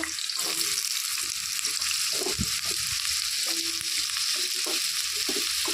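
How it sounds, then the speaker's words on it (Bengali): Cut potatoes frying in oil in a wok, a steady close sizzle throughout with occasional stirring clinks and scrapes. "কড়াইতে আমি তেল দিয়ে দিয়েছি এখন আমি তেলের মধ্যে কেটে রাখা আলু ভেজে নেব"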